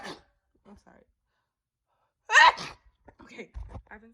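A woman sneezes once, loud and close, after a few faint breaths and a short pause, followed by quiet sniffs and breathy noises.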